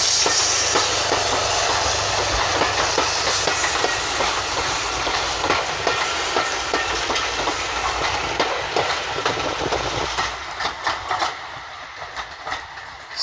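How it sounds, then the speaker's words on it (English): A Severn Valley Railway train passes a level crossing at Sheringham West, a loud close rush of wheels with clickety-clack over rail joints and a steady hiss, the clatter turning sparse and rhythmic toward the end. "That is the engine from the Severn Valley Railway"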